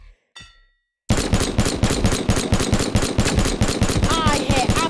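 Rapid automatic gunfire in the Boneworks VR game, a dense run of loud, evenly spaced shots lasting several seconds after a brief quiet start with a short voice sound.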